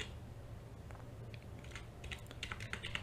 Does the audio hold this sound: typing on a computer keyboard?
yes